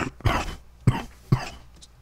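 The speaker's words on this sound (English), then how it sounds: "Sorry if I coughed." Three short, sharp coughs from a person nearby, evenly spaced over about two seconds, each a brief burst with a quick fade, heard alone without any talking.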